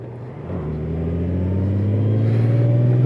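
A motorcycle engine with a dual-clutch transmission, throttle twisted gently so the steady, loud hum rises slowly in pitch as it pulls away smoothly, with no gear clicks and no talking.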